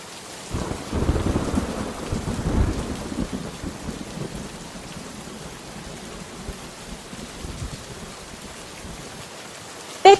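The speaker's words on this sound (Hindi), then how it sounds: "बारिश की आवाज मेरे कानों में सुनाई दी।" Steady rain with rumbling thunder, the heaviest rolls early on, then continuous rainfall on a surface with a sharp crack at the very end.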